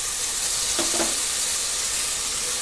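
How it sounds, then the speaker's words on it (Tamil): Tomato and masala sauté in hot oil for a tasty cholam rice dish, giving a steady close sizzling hiss with a couple of brief stirring scrapes near the middle. "இந்த மசாலா எல்லாம் எண்ணெயிலே நல்லா வதக்கி விடலாம்."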